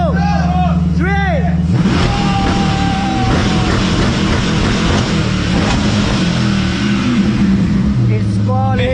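An American V8 muscle car engine revs hard and loud nearby in Dubai, the roar rising and holding steady under chattering voices.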